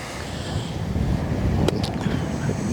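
Wind blows outdoors on a golf course, a continuous rushing roar that buffets the microphone. It stays loud and close throughout, with a faint distant tap partway through.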